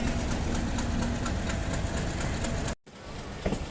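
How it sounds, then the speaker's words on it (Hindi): A Pakistan Railway diesel locomotive engine runs loud and steady, a dense continuous rumble that cuts out abruptly near the end before a quieter background returns. "पाकिस्तान रेलवे के पावरफुल इंजन"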